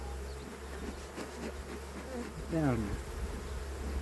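Honeybees buzzing steadily around an open hive during a first spring beehive inspection in an apiary, a close continuous drone with a man's brief spoken word.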